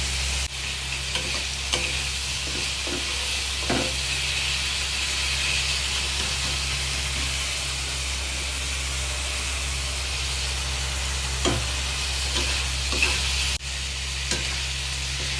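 Tomatoes and spices fry in a pan with a steady, loud, close sizzle, broken by repeated scraping strokes of stirring throughout.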